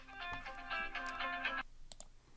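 A telephone rings in a steady electronic burst that cuts off abruptly, followed by a couple of faint clicks in a quiet room.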